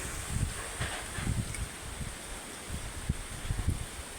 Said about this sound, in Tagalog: Ang hangin no?